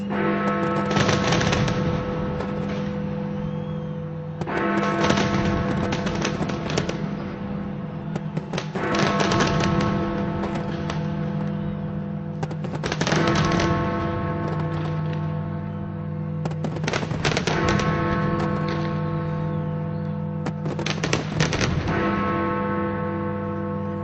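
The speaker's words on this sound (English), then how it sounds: "The atmosphere here is absolutely incredible along Embankment as the firework display begins." New Year fireworks display along the Embankment in London, with repeated booming bursts and crackling barrages over a constant dense layer of crowd noise and rumble, loud and sustained throughout.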